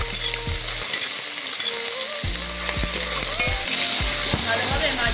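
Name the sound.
rui fish frying in hot oil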